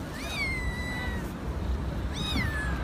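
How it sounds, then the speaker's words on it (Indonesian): Cats meow loudly while being caught by workers in the courtyard of Masjidil Haram. Two drawn-out, rising-then-falling meows sound close by, one at the start and one near the end, over steady crowd murmur. "ditangkap semua kucing-kucing yang ada di pelataran Masjidil Haram ini"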